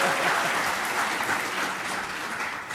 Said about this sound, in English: Clap for free, everybody.